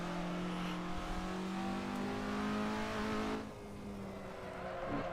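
A race car in Assetto Corsa accelerating out of a corner, its engine note climbing steadily in a loud, harmonic-rich whine before a brief dip at a gear change and a renewed rise.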